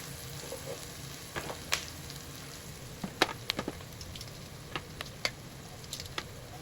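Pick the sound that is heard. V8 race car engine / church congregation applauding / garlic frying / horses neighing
garlic frying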